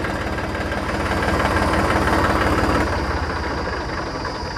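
An Eicher 333 tractor engine idles loudly and steadily nearby, a deep rhythmic chugging with a slight rise in revs midway before settling.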